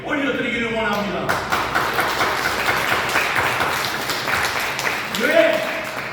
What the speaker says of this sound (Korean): 영광의 박수를 크게 하나님 앞에 올려드리기를 원합니다